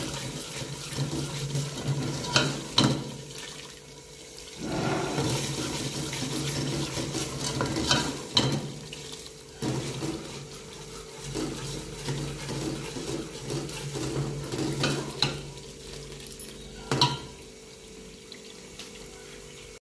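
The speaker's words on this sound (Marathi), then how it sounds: "आपला मसाला भाजेल तसा तेल सुटायचं." Masala roasts in oil for Kolhapuri rassa, a continuous close sizzle and bubbling broken by several louder scraping stirs across the pan.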